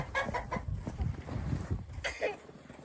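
Chickens cluck in a treehouse coop on an off-grid Alaskan homestead, with several short clucks and murmuring calls close by at a moderate level.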